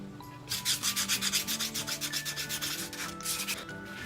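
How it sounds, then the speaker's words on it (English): Steady, rhythmic scratchy rubbing of a worn sanding pad on filler over a 3D print, a quick back-and-forth stroke repeated many times, close up with no talking. "I've been using just some of these sanding pads that were used up just as a way to sand filler"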